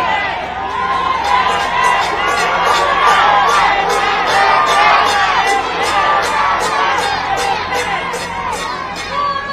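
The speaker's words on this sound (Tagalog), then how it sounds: "Ang sigaw ng mga tao ay Duterte." A large crowd at a political rally in Manila chants and shouts in a steady rhythmic cadence, loud and continuous, with many voices merging into a roaring, pulsing din throughout.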